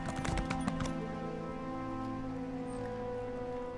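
Horse hooves clip-clop in Elder Scrolls Online, a short burst of quick hoof strikes in the first second that gives way to steady in-game ambient tones.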